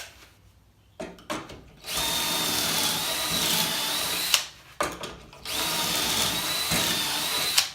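A power drill boring pocket holes with a Kreg pocket-hole jig: a few short bursts, then two long whirring runs separated by a brief pause, close and loud.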